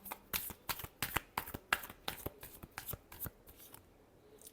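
Tarot cards are shuffled by hand in a quick run of about a dozen crisp riffling snaps, close and fairly soft, tapering off at the end.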